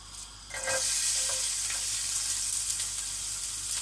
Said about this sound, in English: I'm just throwing in the garlic.